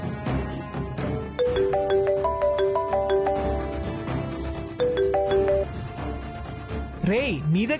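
A mobile phone ringtone plays a repeating electronic melody of clear beeping notes for several seconds indoors, with faint voices around it.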